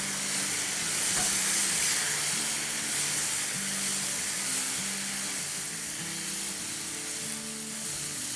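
Chicken with added chili hot sauce sizzles in a pan for a chicken taco pizza topping, a steady close frying hiss with faint stirring scrapes throughout.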